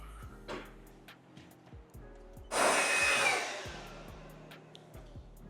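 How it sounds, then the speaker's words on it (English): A hair blow dryer blasts air over a car's painted panel in a loud, steady burst of roughly a second. Quieter knocks and mechanical hum surround it before and after. "so just a quick blow dry on the top half."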